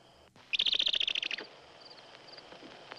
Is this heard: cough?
no